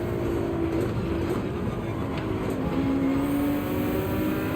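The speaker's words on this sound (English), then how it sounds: "I hear cars coming up." Race cars approach and pass at Road Atlanta in Gran Turismo 7, rising engine tones sweeping past over a steady rumble at moderate distance, with no talking.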